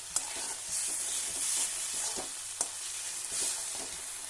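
Cauliflower florets with a splash of water go into hot oil for a cauliflower roast, giving a steady close sizzle with a few sharp clatters and stirring scrapes, no voices.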